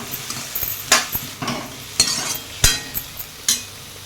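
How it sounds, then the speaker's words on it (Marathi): Chilies, onion, tomatoes, garlic and ginger roast in a pan for a Khandeshi sev bhaji, with a faint sizzle under repeated clinks and scrapes of a metal spoon stirring and tossing the pieces. No voices are heard. "आता मिरच्या, कांदा, टमाटे, लसूण, अद्रक याला चांगले भाजून घेऊ"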